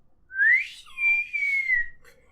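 A human voice imitates the whistling of a table tennis ball in flight with two rising, sliding whistles, clear and close in near silence.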